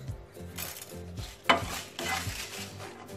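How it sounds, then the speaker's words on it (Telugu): Groundnuts and coriander seeds dry roasting in a pan without oil, stirred with a utensil that scrapes and rattles the nuts in uneven sweeps, with one sharp clink midway, close and moderately loud, no talk. "ఇవన్నీ నూనె లేకుండా డ్రై రోస్ట్ చేసుకోవాలండి"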